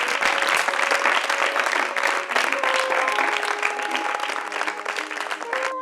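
Children applaud loudly and without pause, a thick wash of clapping that holds steady throughout, with sustained musical tones running underneath.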